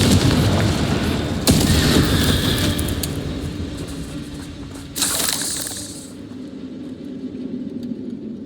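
A fiery Confringo explosive spell from Hogwarts Legacy goes off, with two sharp booming blasts, the second a bright crackling burst, rising over a steady low rumble of game ambience.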